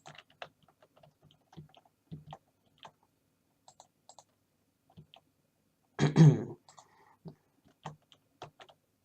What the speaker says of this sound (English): you guys would probably be hearing me clearing my throat a lot